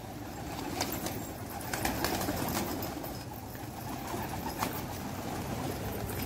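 Pigeons coo softly amid a noisy outdoor background, their low murmuring calls blending with a constant wash of ambient hiss and a few faint clicks and flutters.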